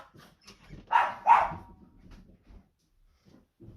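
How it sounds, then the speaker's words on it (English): A small dog indoors near a door gives two short, clear barks, followed by faint shuffling and quiet movement. "I'm just going to go and let my little dog out because she's scratching at the door."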